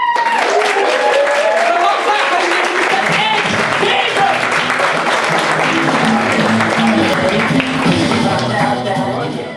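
Comedy club audience clapping to welcome the next act, a loud, sustained round of applause lasting several seconds, with some cheering and a voice mixed in early on.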